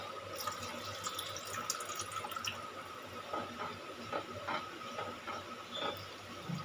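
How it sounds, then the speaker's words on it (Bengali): Water going into a pan for a Bengali mustard tilapia fish curry, a faint, steady splashing trickle with a few drips, heard alone. "এবারে দিয়ে দেবো পেস্ট করা সর্ষে অল্প পরিমাণে জল দেব"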